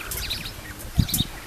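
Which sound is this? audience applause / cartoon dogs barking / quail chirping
quail chirping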